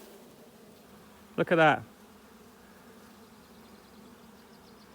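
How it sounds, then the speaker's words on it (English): Honey bees hum steadily and faintly across a brood-filled frame in an active hive, with a brief spoken remark cutting in partway through. "Lovely, nice bees."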